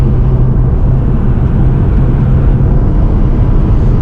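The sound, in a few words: Honda Civic Si 7th gen engine intake sound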